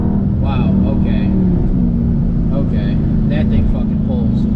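A Dodge Charger 392 fitted with a new air intake and a canned Diablo tune pulls hard. Its deep, steady engine drone is heard from inside the cabin beneath an excited voice.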